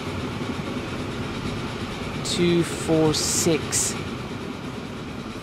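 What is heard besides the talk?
Big Boy 4-8-8-4 oil train running, video game Transport Fever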